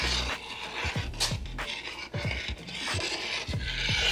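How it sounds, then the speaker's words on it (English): A spoon scrapes repeatedly across the bottom of a pot of hearty vegetable beef stew, a series of close, rough rasping strokes in a loose rhythm. "if you take the spoon and scrape the bottom"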